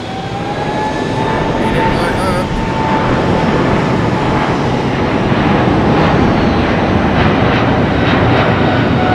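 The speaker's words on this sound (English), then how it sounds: "Boeing from Boston, British Airways 777-300." A British Airways Boeing 777-300 jet roars steadily and loudly overhead at Heathrow, a broad continuous engine rumble with a faint whine, while someone speaks beneath it.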